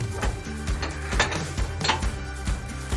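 Egg, butter, sugar and baking powder stirred together in a bowl for an apple tart, with repeated clinking and scraping of a utensil against the dish in a steady, close rhythm, and no talking.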